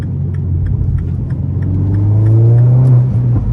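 A fully modified Mini Cooper JCW engine revs up and accelerates on a straight, its rising whine building steadily over a continuous low rumble, close and loud.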